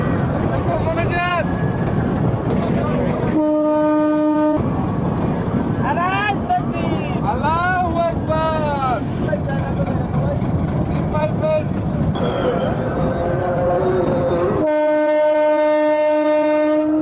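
A train runs through Bangladesh, giving off a loud, continuous rumble of rolling wagons, while its horn blasts several times in long, sustained tones over the din.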